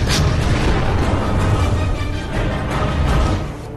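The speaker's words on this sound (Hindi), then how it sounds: "हिंदुस्तानी जवानों ने तोपों से गोले दागने शुरू कर दिए थे।" Bofors artillery cannons fire shells in the Kargil war, a dense continuous roar of booming blasts and rumble, loud and close, with no voices.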